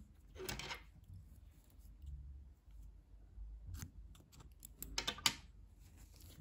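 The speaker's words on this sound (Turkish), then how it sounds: "İpliği kesiyorum." Scissors snip through knitting yarn while finishing a knitted skirt join, giving a few short crisp cuts close by, with the sharpest pair of snips near the end.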